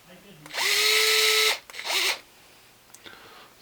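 A cordless drill whirs for about a second driving a screw into plastic, then a second shorter burst, close and loud, with a faint voice nearby.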